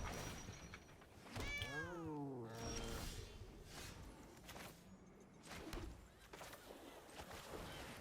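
A cat meows with a rising and falling harmonic cry near the start, standing out over a busy background of voices and other sounds.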